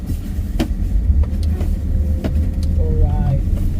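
Winter road traffic in Canada rumbles past, cars driving by in a steady low roar with a faint tonal whine near the end and a little background talk.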